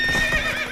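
Roach, a horse in The Witcher 3 video game, gives a short loud whinny with hoof clip-clops, close and without talk.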